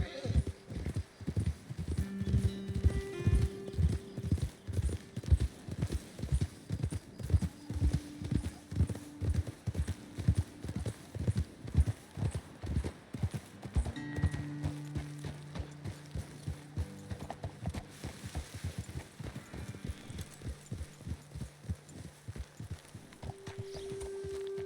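Horses walk in Red Dead Redemption 2, their hooves clip-clopping in a steady rhythm over a long stretch, close and clear, with an occasional snort or whinny and faint in-game ambience.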